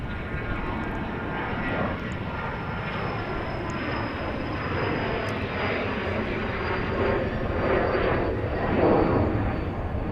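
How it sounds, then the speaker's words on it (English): Learjet 40 business jet of Omni Air Transport at Dallas Love Field, a steady broadband engine roar that swells gently toward the end, fairly loud and continuous without voices. "This is Omni Air Transport, the Learjet 40, which is going to Alpine"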